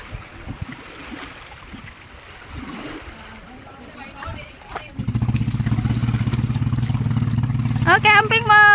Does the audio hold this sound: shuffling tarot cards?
no